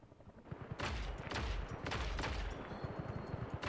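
Video game gunfire in Just Cause: sustained, dense rapid shots from several weapons, close and loud, with a quieter lead-in before the volley.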